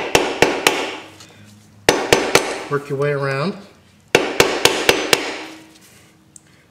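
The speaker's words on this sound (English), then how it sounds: "You just need a screwdriver and a hammer. You don't need to tap too hard" Sharp metallic hammer taps on a screwdriver prying off a corroded trailer wheel bearing cap come in quick bursts of three or four, with someone speaking briefly between the groups of strikes.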